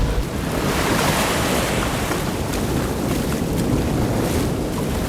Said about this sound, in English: He sees the huge waves that always sent him back to the deserted island.